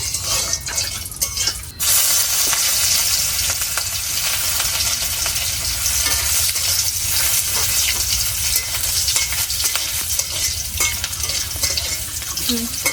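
Garlic frying in a pan in a village kitchen, giving a steady loud sizzle and hiss with stirring scrapes throughout and a brief clatter near the start.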